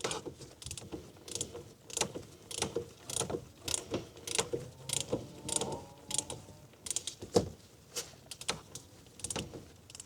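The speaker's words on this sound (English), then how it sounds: "Let's get this on a ratchet." Ratchet clicking as it turns an oil filter housing on a Ford Transit Connect 1.5 TDCi, close, regular bursts of sharp pawl clicks in a steady back-and-forth rhythm.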